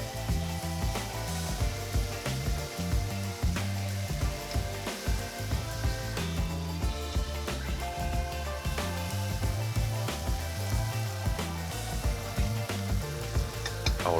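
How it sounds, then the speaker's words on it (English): Apple cider vinegar stirred into a sizzling bacon jam base, a dense, continuous crackle of frying with scattered pops and spoon movements, steady and close throughout. "When done, we add some apple cider vinegar and we stir it in."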